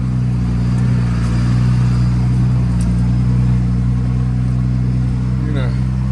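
Truck engine idling steadily up close with a loud constant hum and low harmonic drone throughout, near a remote mining site in British Columbia, while someone talks over it.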